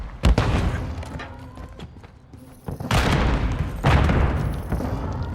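Stun grenade blasts in Call of Duty Modern Warfare 3, with loud booming bursts near 3 and 3.9 seconds amid sharp gunfire cracks and thuds, dense and close throughout.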